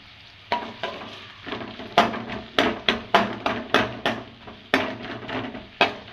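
Garlic and green chilli fry in a pan for restaurant-style chilli chicken, with a spoon scraping and tapping the pan in a string of sharp, close strokes over a soft sizzle.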